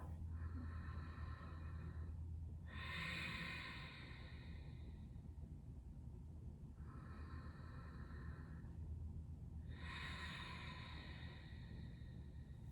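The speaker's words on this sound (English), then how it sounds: "I'm going to get my Ujjayi breath going. Long, slow inhales and long, slow exhales." Slow Ujjayi breathing during seated chair yoga, with long airy inhales and exhales coming in two drawn-out cycles, soft and close over a faint low hum, no talking.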